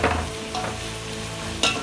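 Onions sauté in a pan, sizzling steadily and close, with a couple of short scraping stirs and a sharper clatter near the end.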